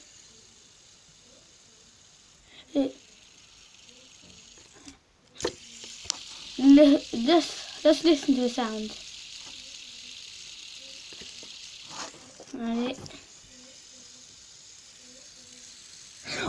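A fidget spinner whirs with a steady, thin hiss that runs for several seconds, while a person talks briefly and makes some handling noises close by.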